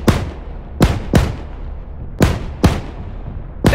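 A Bradley's 25mm cannon fires in Arma 3, five heavy booming shots at uneven intervals, each a sharp loud crack with a rumbling decay, with no voices over them.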